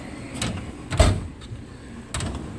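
A toolbox drawer slides open and shut in a garage, giving a few short rolling scrapes and clunks, loud and close, with no talk.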